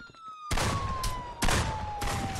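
Three loud, close gunshot blasts in the Friday the 13th video game, spaced about a second apart, cutting over a steady descending electronic tone.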